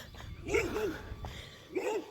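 Large dogs bark and whimper up close in short bursts, a couple of yelping calls separated by brief pauses, with no talking over them.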